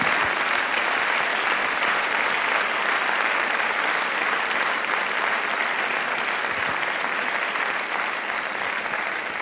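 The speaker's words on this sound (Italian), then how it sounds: "perché non invitare Letizia sul palco a ricevere un meritato applauso" Steady, dense applause from a large audience fills the space for the full length, even and sustained with no voices breaking through.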